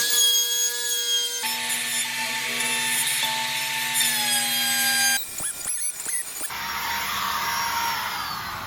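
A router trims the edges of a Formica kitchen countertop, making a loud, continuous, high-pitched whine with a changing tone as it moves along the laminate, then a rougher grinding toward the end.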